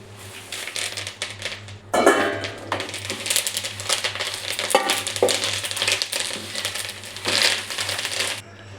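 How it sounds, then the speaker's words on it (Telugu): Curry leaves dropped into a pan of hot oil with dried red chillies, giving a bright crackling sizzle with stirring scrapes and clinks, bursts swelling as the leaves hit the oil. "మిరపకాయలు కూడా వేగాయి. ఇప్పుడు కరివేపాకు వేసుకుందాం."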